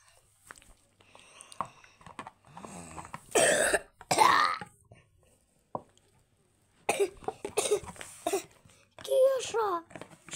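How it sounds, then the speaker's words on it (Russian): An animated cartoon character coughs repeatedly in harsh, raspy bursts, mixed with throat clearing and childlike voices talking around the coughs. "Кеша, что ты кашляешь?"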